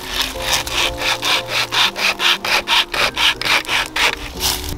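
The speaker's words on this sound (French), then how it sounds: "Ce petit bout de fil là, c'est une scie." A wire saw rasps back and forth through a dead tree in steady, rhythmic strokes, about a dozen pulls, close and fairly loud with no voices.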